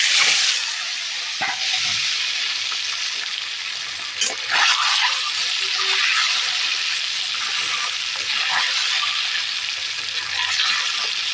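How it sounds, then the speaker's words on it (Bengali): Beaten egg frying in hot oil in a wok, a bright steady hiss and sizzle close by with a few sharper crackles and scrapes, going on without a break. "এই ডিমটা এখন আমি তেলের মধ্যে দিয়ে ভেজে নেব।"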